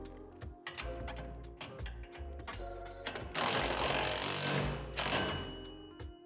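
Hardware being tightened on the lifter arm of a portable basketball hoop, with repeated ratcheting and clicking mechanical strokes, close and fairly loud, and a rough louder grinding burst midway. No one speaks.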